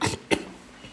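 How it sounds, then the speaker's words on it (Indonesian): A single close cough bursts out at the start, followed by a second sharp cough a moment later, recorded indoors during a live streaming showroom broadcast. "Kenapa harus batuk di depan kamera?"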